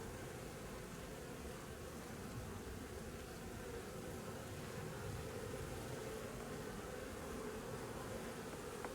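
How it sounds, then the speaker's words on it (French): Honeybees buzz continuously around a small queen cage holding a live queen, feeding her through the mesh, a steady close droning hum with no other sounds. "Les abeilles arrivent à la nourrir à travers la cagette là."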